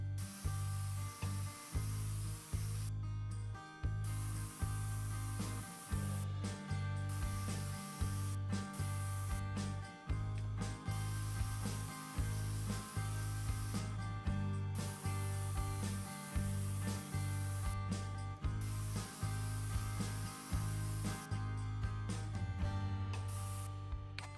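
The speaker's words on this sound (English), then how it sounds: "All right, the spraying is done." Spray painting in the video game Spray Paint Simulator: steady hissing sprays come in repeated bursts over a looping game soundtrack, with no one talking.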